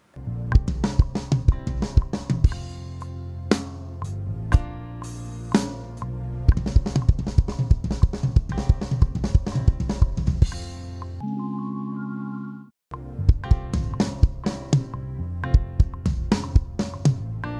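A drum kit plays a busy beat with doubled kick hits packed close together. A brief sustained tone breaks in near the end before the drums resume.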